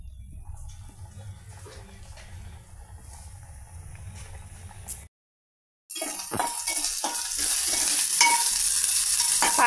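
Sliced onion and green chili frying in oil in a pan, with a steady sizzle and crackle. It stops briefly partway and then returns louder, with spoon stirring.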